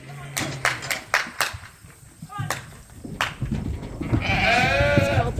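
Suffolk and Dorset ewe lambs on a farm give several bleats, short calls early and a longer wavering cry near the end, mixed with shuffling, footsteps and handling noise.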